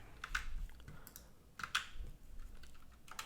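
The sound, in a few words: typing code comments on a computer keyboard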